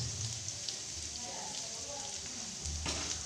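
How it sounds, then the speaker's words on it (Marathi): Chopped onions sizzle and crackle in hot oil in a home kitchen pan, a steady dense hiss heard up close. A voice speaks briefly and low in the background, and a stir or scrape shifts the sound near the end. "आपण आता कांदे तेलामध्ये छान याला परतून घेऊ"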